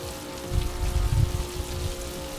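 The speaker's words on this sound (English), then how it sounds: "look, it's starting to rain" Rain falling in the Formula Legends racing video game, a steady broadband patter with low rumbling swells, close and continuous for a couple of seconds with no voices.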